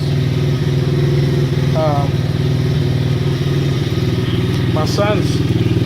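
A Baja 90cc wilderness minibike with a swapped motor runs loudly and steadily up close, a constant buzzy engine drone with faint chirps over it and no clear pause.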